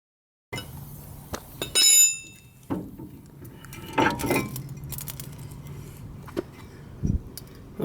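Metal wheel bearings being pried out of the hub of a 1997 Ford F-150, making bright clinks and rattling scrapes with a few sharp metallic hits, close by and without speech.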